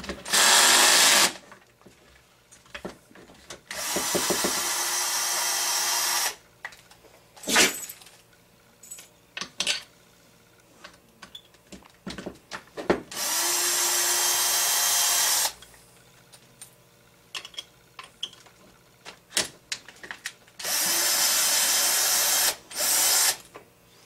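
Power screwdriver backing screws out of the shroud on a CY 23cc engine, several separate bursts of loud whirring lasting a few seconds each, with clicks and handling noises in the quiet gaps between them.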